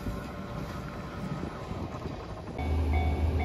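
A train rolls over a railway level crossing in Susaki, Kochi, on the JR Shikoku line, a steady broadband rumble that swells louder near the end as the cars pass close by, with no talking.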